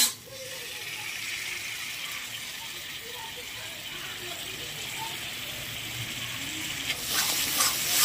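Yogurt going into a hot pan of fried spice paste for katla kalia, a steady bright sizzle and hiss of oil that holds through and swells near the end, with a faint voice speaking underneath.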